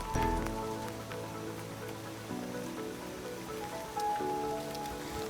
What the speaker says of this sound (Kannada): ಮಳೆಗಾಲದಲ್ಲಿ ಆಗಿರೋದ್ರಿಂದ ಮಳೆ ಬೀಳ್ತಾನೆ ಇತ್ತು